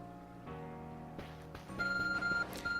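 An ARC phone in the Pokémon Legends Arceus game beeps over a steady game music bed, with repeated electronic tones rising and holding near the end.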